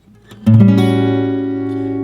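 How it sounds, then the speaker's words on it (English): Electric guitar plays a short blues turnaround: a few quick plucked notes climb into a sustained ringing chord that holds and slowly decays, clear and alone. "put that full turnaround together"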